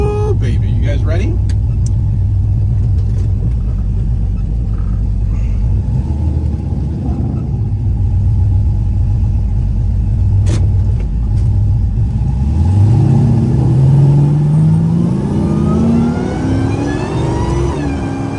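Dodge Hellcat muscle car engine on the road, a loud close rumble that climbs steadily in pitch as it accelerates hard, with people talking over the engine noise.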